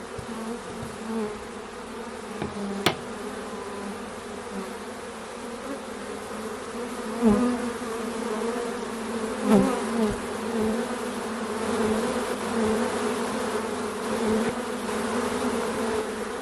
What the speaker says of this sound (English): let's brush some of these bees over onto this towel a little better